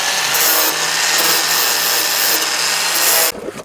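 Power sander with 40-grit paper stripping paint from the bare steel body of a chopped Ford Econoline van, a loud continuous grinding rasp that runs steadily and then cuts off near the end.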